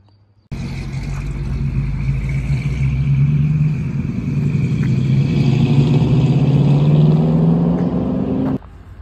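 An SVR car rumbles past on a road in the Vosges, its engine a loud continuous roar that swells and shifts in pitch for several seconds before cutting off abruptly.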